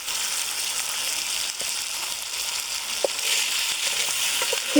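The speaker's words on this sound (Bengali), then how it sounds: "এখন আমি অল্প একটু বাগারের ভিতর মাংসটা," Chicken pieces sizzle steadily as they are added to a small amount of spiced oil for a kala bhuna curry, with a continuous near hiss and a few brief crackles and stirring knocks throughout.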